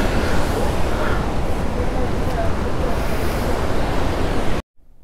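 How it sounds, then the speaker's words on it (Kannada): Steady roar of a waterfall beside a mountain road in Spiti, a dense continuous rush of water mixed with wind buffeting the microphone, holding at constant loudness before cutting out abruptly near the end. "ಒಂದು ವಾಟರ್ ಫಾಲ್ಸ್ ಹೊಂದಿವೆ"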